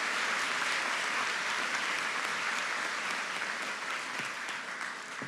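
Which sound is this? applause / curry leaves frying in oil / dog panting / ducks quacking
applause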